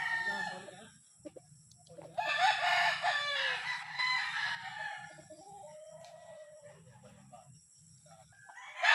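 Gamecock roosters crow at a poultry sale, one long loud crow rising in the middle with fainter clucking and shorter crows around it, and another crow starting at the very end.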